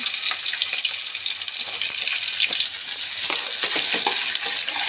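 Chopped onions fry with mustard seeds and cumin in a hot pan, a dense, steady sizzle with small crackles and pops running throughout.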